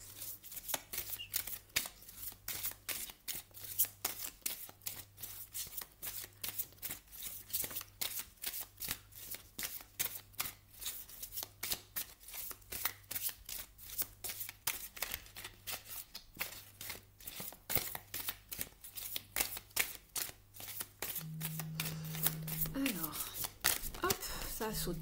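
Oracle light cards being shuffled continuously, a rapid steady riffle of close card slaps and flutters running throughout, with a brief tonal sound near the end.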